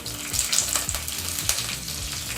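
Garlic, green chillies and curry leaves crackle and sizzle in hot oil for a tempering, a loud, busy close frying sound with sharp pops.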